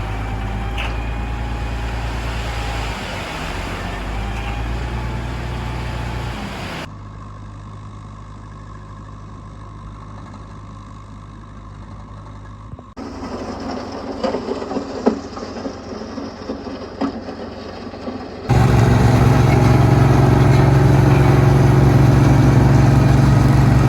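An excavator grades the ground for gravel inside a high tunnel, its engine running loud and steady throughout, with a quieter stretch in the middle, then clanking and scraping before the engine surges even louder near the end.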